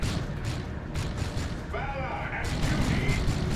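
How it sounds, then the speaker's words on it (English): Melta bomb detonating amid the battle din of Warhammer 40k: Dawn of War 2, a 1v1 match of Daemonhunters against Chaos: a dense, rumbling blast wash with metallic whining tones layered over continuous combat noise. "Melter Bomb goes in."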